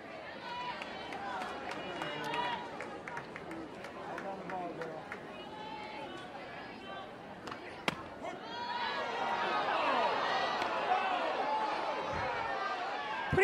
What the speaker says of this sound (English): Pretty vocal crowd we've had today.